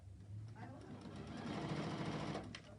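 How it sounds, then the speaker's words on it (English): A sewing machine stitches a 45-degree angle into fabric binding, its motor whirring steadily and close for nearly three seconds with a rapid, even needle rhythm. "Okay, so I've just sewn a 45-degree angle there."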